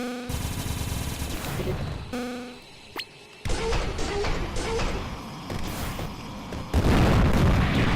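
A loud explosion boom erupts in the Sky Rogue flight combat game, bursting out near the end after a stretch of dense engine and weapon noise with a brief lull and a sharp crack midway.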